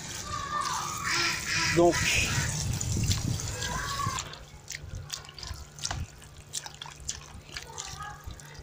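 Capers and caper berries rinsed in water before salting, with splashing and dripping under a French-speaking voice for the first half, then quieter trickles and faint drips.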